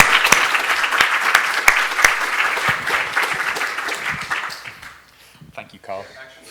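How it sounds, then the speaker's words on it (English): Audience applause for the speakers at a scientific symposium on genetic trade-offs: dense, steady clapping from a crowd that thins and fades over the last couple of seconds, ending in a few scattered claps. "I'd like to give a round of applause to everyone who spoke in what's been a wonderful symposium."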